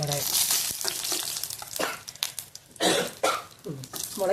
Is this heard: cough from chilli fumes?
yes